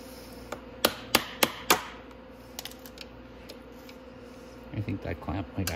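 A tool taps a carburetor on a Venom 125cc x20 motorcycle to loosen it, four sharp metallic knocks in quick succession, then a few lighter clicks, followed by a brief burst of talk nearby.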